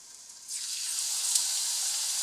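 A tilapia fillet hits a hot skillet and bursts into a steady, bright sizzle that holds loud and even from the moment it lands, with no talking over it.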